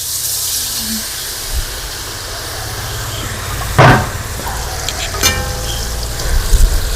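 Batter for homemade mixture snack hits hot oil and fries with a steady broadband sizzle, a sharp burst of crackling swelling midway as more is poured, then continuing bubbling hiss.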